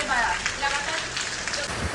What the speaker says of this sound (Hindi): खतरनाक बारिश हो रहा है, बहुत जबरदस्त।